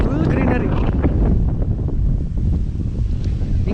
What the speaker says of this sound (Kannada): ಗಾಳಿ, ಹೆವಿ ಗಾಳಿ, ಪ್ಲಸ್ ಫುಲ್ ಗ್ರೀನರಿ.